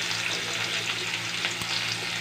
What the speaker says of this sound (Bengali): পেঁয়াজটা একটু ভালো করে ভেজে নেব।